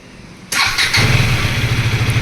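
A Gen-3 KTM Duke 250 motorcycle, fitted with added fog lamps, cranks briefly and then fires up, settling into a loud, steady, throbbing idle close by.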